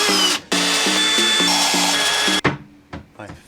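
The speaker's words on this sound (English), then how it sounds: "I'm gonna use this stick of 2 by 2 inch steel and drill a hole in it and a slot" A power drill bores a hole in a 2 by 2 inch steel bar with a high whine that stutters into short repeated bursts, then stops abruptly, followed by a few scattered clanks and knocks.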